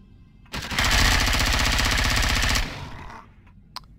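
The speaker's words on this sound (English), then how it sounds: "That was some bad shooting." Sustained automatic gunfire in the sci-fi survival game Empyrion Galactic Survival, a rapid loud burst lasting about two seconds with a short fading tail and one faint click afterward.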